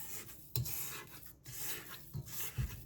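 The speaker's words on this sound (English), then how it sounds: "Always make sure you're scraping down the sides of your bowl" A spatula scrapes around the sides of a mixing bowl of apple blondie batter, giving a few soft rasping strokes close up with brief pauses between them.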